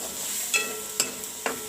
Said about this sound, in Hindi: अब इनको अच्छे से मिक्स करना है।